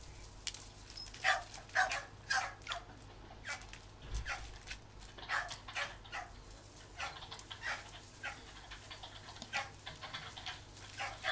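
Dogs bark repeatedly at a sheep-training area, sharp yips and barks coming in uneven bursts at moderate distance, with some whimpering between them.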